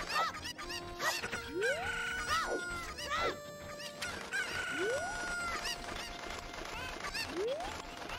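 Chickens cluck and call in a busy, continuous run of overlapping squawks and rising honk-like cries, fairly close and steady throughout with no talking.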